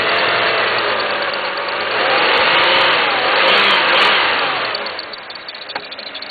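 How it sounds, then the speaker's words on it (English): A supercharged engine in a 1995 Pontiac Bonneville SSEI runs with an engine knock, close and loud, its pitch rising and falling as it revs before settling near idle, with no talking. "You can hear that knock"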